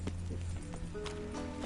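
Horse in the Witcher 3 video game, quick hoof clops over a low rumbling game backdrop, brief and fairly faint.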